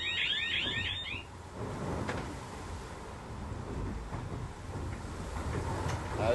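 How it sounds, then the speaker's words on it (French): A heel alarm sounds aboard a racing sailboat in the Route du Rhum: a rapid high-pitched electronic beeping lasts about a second, then gives way to rumbling hull and wave noise inside the cabin. "Le bruit c'est l'alarme de gîte"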